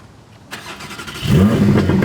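A Porsche Spyder sports car is started with a key, and its engine catches and swells into a loud, deep roar that holds steady to the end.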